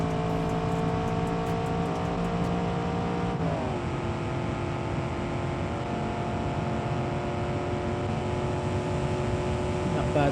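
Aston Martin V8 sedan with a 453-horsepower AJ37 Jaguar engine accelerating in a racing video game, a steady loud engine drone that rises in pitch, drops at a gear change, then climbs again, with a voice talking over it.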